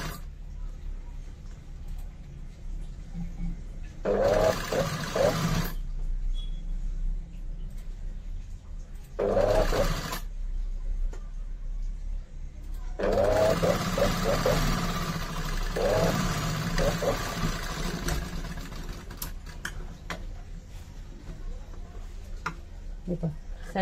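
A sewing machine stitches a blouse side seam in three bursts of steady mechanical whirring, moderately close, with quiet pauses between them and no clear talking.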